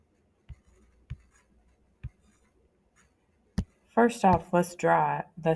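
Pen drawing x and y axes on paper: a few sparse, soft taps and scratches in near silence, followed by a person starting to speak at the end.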